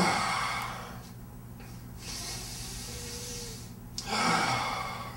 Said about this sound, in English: So take a couple of breaths.